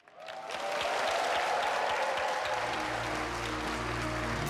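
An audience applauds a singing performance, the clapping rising quickly into a sustained, dense wash of many hands, with a low musical tone coming in beneath it partway through.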